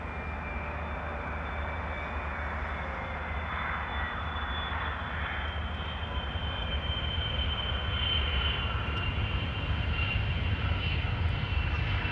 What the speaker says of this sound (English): You can see that there is also an A330 getting closer by